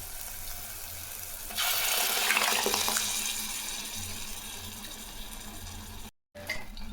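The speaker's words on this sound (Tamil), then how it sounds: "ஒரு இரநூறு கிராம் தண்ணி சேர்த்துக்கலாம்" Water pours steadily into a pot of cooked lentils for sambar with a soft splashing rush for several seconds, then fades to a quieter trickle before a brief cut.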